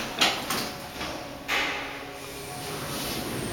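Four-speed Kone traction elevator doors at Washington Dulles International Airport slide with two clear thumps and a mechanical rush, while a steady high whine hangs underneath, with no speech.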